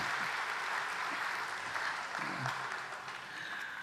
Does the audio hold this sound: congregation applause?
yes